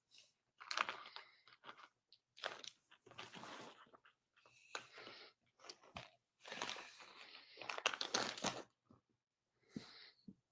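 Loud, close crunching of a crisp snack in a quiet room, with several bursts of chewing separated by short pauses.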